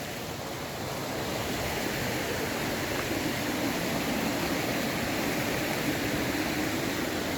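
Small tributary streams pour into a limestone gorge beside Glenoe waterfall, a steady close rush of running water that fills the whole clip with no voices.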